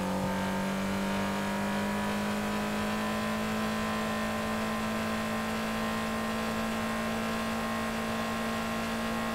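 A car drives steadily through the game world of GTA 5 Online, its engine holding a continuous hum with smooth harmonic layers, loud and close, with no talking over it.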